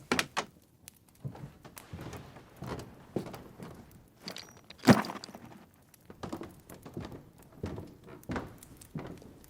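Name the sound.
door being opened, footsteps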